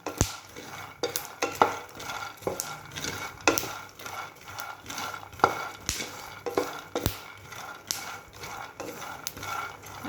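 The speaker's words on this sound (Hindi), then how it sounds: "इस तरह से इसको सब फली को भून लेंगे।" Peanuts dry roasting in a pan give off steady scraping and rattling as they are stirred, with repeated sharp clicks and shuffles at a close, even level and no talking.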